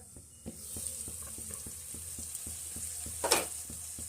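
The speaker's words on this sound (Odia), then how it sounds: "ସେଠି ଦେଖନ୍ତୁ ମସଲାଟାକୁ ଆମର ଘୋଡ଼େଇ ଘୋଡ଼େଇ କଷିବାର ପ୍ରାୟ 4 ରୁ 5 ମିନିଟ୍ ହେଇଗଲାଣି।" A spice paste (masala) for bhakura fish besara fries in a pan over medium heat, with a soft sizzle under regular stirring taps and a brief louder scrape near the end.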